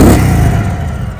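A 2023 Indian Sport Chief motorcycle on its stock exhaust gives a short, loud, close-up engine rev that sinks into a deep, throbbing idle within about a second.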